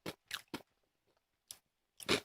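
Someone bites into a crunchy peanut-filled seaweed snack, giving several sharp, close crunches in quick succession, a short pause, then a louder final crunching bite.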